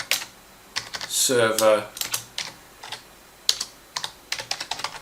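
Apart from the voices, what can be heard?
typing a search on a computer keyboard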